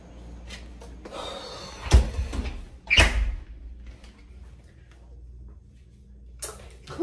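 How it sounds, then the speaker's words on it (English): A hotel room door swings shut late at night, giving a sharp thump followed by a second solid knock a second later, then quiet room tone with faint rustling. "Close the door."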